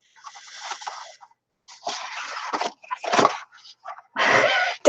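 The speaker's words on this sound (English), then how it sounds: "This is my dog." A pet dog sniffing and snorting in short, close bursts with pauses between, sounding almost piglike, with no talk over it.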